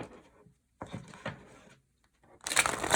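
Tarot card decks being shuffled by hand, giving dry papery riffling bursts around one second in, then a louder, denser riffle of cards at the end, close and otherwise quiet.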